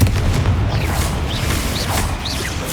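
A Confringo fire spell blasting in Hogwarts Legacy, a loud sustained rumble of booms and bursts with fiery whooshes and small whistling sparks on top.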